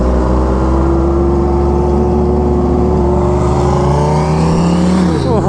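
Kawasaki Ninja H2R superbike engine revving hard and loud up close, a strong droning tone climbing in pitch near the end as the revs rise.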